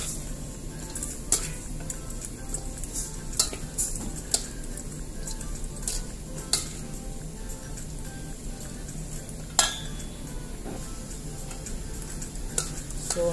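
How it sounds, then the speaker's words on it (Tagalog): A utensil stirs bitter melon salad ingredients in a bowl, giving irregular close clinks and soft scraping taps that recur every second or two over quiet room noise. "Haluin na natin."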